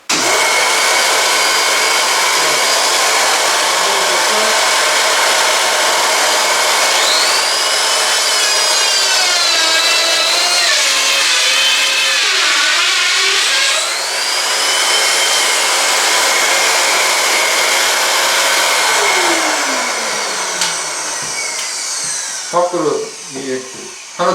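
A household vacuum cleaner runs with a loud, steady motor whine, pitch shifting as it works, ending with a few clunks; no talking over it.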